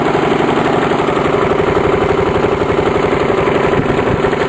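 A lawn mower engine fitted with a custom chrome muffler runs steadily, a loud, close, continuous idle with a fast regular thumping pulse and no voices.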